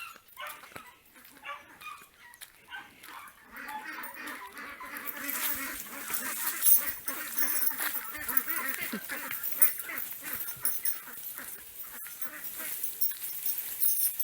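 Ducks squawk and quack continuously amid a busy, noisy outdoor yard scene, with honking calls rising and staying loud toward the end.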